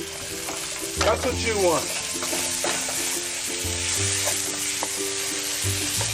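Ginger and garlic sizzle steadily in a little hot oil in a pan for pepper steak with onions, a close, continuous frying hiss with stirring scrapes while a voice briefly speaks.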